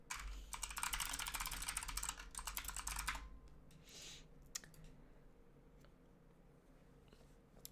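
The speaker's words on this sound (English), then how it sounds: "Have you heard my keyboard?" Rapid, close keyboard typing clatters loudly for about three seconds, then gives way to quieter room noise with a few scattered clicks and taps.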